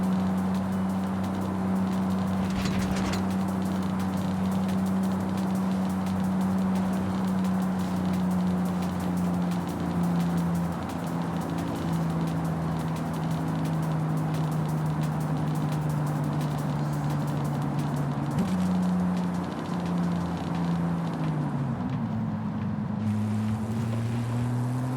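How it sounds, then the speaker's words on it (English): A car exhaust note buzzes steadily while driving, a constant low drone with rising and falling pitch as the engine revs, loud and continuous with road and wind noise. "Still a good exhaust note on this one, not absolutely ridiculous, but we still got some good buzzing going on."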